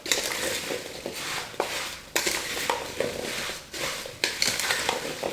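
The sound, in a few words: stirring white sugar and cinnamon together in a bowl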